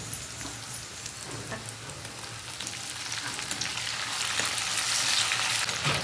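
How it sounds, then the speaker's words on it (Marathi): Ginger garlic paste sizzles and crackles in hot oil as a tempering for bhogi bhaji (khengat), a steady frying hiss that grows slightly louder toward the end with occasional stirring clicks. "अद्रक लसूणची पेस्ट छान भाजून घ्यायला"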